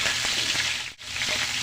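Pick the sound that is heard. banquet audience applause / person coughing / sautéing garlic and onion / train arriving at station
sautéing garlic and onion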